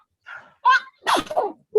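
A single short sneeze, close and fairly loud, set among brief voiced sounds in a quiet room during a card-making class at a senior center.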